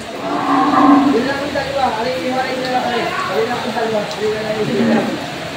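Water buffalo and cattle at the Lucena livestock auction market in Quezon, with lowing and moos mixed into a crowded, noisy yard where people talk loudly throughout.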